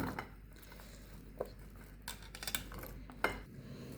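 Fruit pieces and cashews tumble into a cooking pan with scattered clinks, taps and soft stirring clatter, fairly quiet and close, with no voice.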